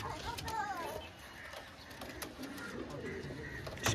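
A pair of breeding pigeons coos softly and continuously in a low register, with faint background rustle and light clicks. The sound is fairly quiet and close.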